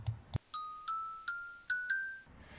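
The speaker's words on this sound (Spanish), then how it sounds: "si lo colocamos sobre un bloque de oro, va a sonar como una campana, como una campanilla" A Minecraft note block placed on a gold block plays bright bell tones: five evenly spaced chimes, each ringing out and decaying, clear and close with nothing else heard.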